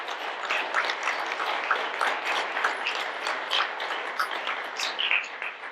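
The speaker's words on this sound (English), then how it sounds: "Let's have a round of applause for all the guys in here who never got told welcome home." An audience at a Marine Corps birthday ball claps steadily for several seconds, a dense, even patter of many hands at moderate volume.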